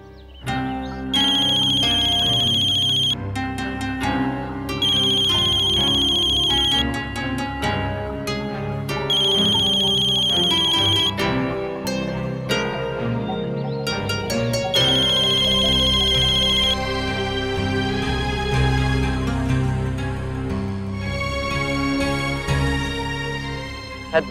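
A telephone ringtone sounds over and over while a call to dad is being placed, the bright melodic tone repeating in loud, regular bursts for the whole stretch, with music underneath and no speech.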